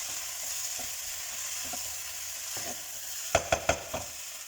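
Beef sausages fry in a pot over lowered heat, a steady soft sizzle running throughout, with a few sharp clacks of a utensil against the pot near the end.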